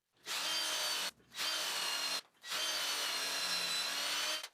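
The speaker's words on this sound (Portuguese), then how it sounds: "Ajustei o limitador de profundidade na broca e furei os 3 primeiros furos no gabarito." A power drill whirs through wood in three sustained bursts separated by short pauses, close and fairly loud.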